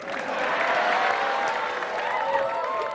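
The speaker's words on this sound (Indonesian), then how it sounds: "Sekali lagi tepuk tangan buat saya." An audience at an Indonesian stand-up comedy show applauds in a dense, steady wash of clapping that lasts about three seconds, with a faint murmur of crowd noise underneath.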